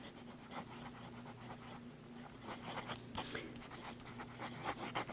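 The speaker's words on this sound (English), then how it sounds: "this pen really writes sweet" A Levenger Facet Onyx fountain pen with a medium nib and wet-flowing Monteverde California Teal ink scratches steadily across paper, close up, with soft continuous nib strokes.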